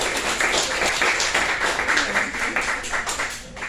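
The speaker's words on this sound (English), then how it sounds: "Give them a round of applause, please." Audience at an Indy Story Slam storytelling night clapping in a steady, dense round of applause that fills the room, tapering slightly near the end.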